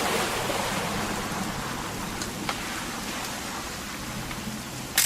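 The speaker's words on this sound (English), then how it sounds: "It's gonna rain the whole weekend," Steady rain in the video game What Remains of Edith Finch hisses and patters continuously, with a few sharper drip taps standing out near the end.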